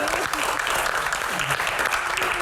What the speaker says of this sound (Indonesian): Berikan tepuk tangan yang paling meriah sekali lagi.